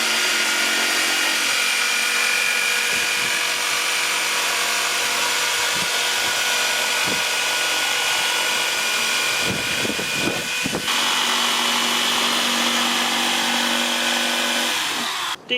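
A power tool cuts into the front bumper of a Pajero NT during an ARB bull bar fitting, making a loud, continuous, high-pitched whine that barely changes for about fifteen seconds, with a brief wavering near the middle.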